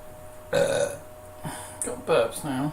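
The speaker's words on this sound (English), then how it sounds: "Got burps now." Several loud, gravelly burps come one after another, some stretched out, with a voice faintly present between them.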